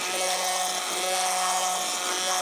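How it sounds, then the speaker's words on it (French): A kitchen blender froths coconut milk, giving off a loud, steady, high buzzing whir that runs unbroken and close, with no talking. "on insuffle de l'air avec le mixeur pour alléger notre lait de coco"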